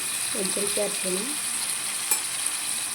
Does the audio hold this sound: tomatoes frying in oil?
yes